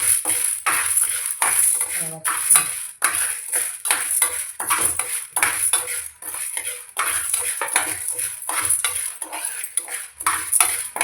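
Chana dal dry-roasting in a pan, stirred with a metal spoon in a rapid series of scraping rattles and clinks, close and persistent.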